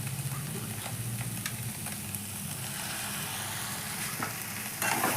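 Rice paste is stirred into banana stem curry in a pan, a continuous sizzle with scraping spoon strokes and light knocks against the pan, close and moderately loud, no speech.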